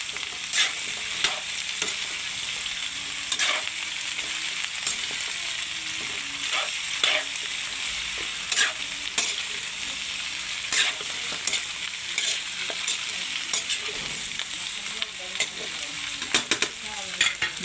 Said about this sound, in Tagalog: Gisahin po muna natin